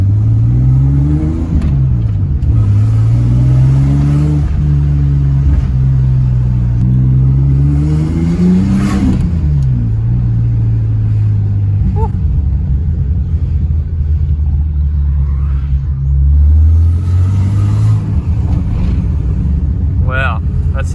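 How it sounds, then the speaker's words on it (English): A car engine fitted with a diff dump exhaust revs hard in repeated rising and falling surges over a deep, steady idle rumble, loud and close throughout. "Give it a bit of a rev."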